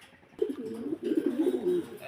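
Pigeons coo close by in soft, low, rolling bursts, one call after another, with a quiet background.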